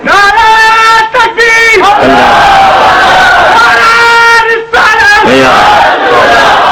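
A large crowd at a religious gathering chants slogans in loud, tonal call-and-response bursts, voices rising together in sustained waves with brief gaps between phrases.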